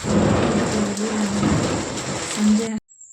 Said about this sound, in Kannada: ಮಳೆ ಸೌಂಡ್ಗೆ ಗುಡುಗು